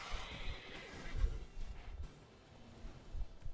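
A horse in The Witcher 3: Wild Hunt gives a shrill whinny that falls away over about a second, followed by faint hoof clops and game ambience. The sound is fairly quiet and stands alone, with no talk over it.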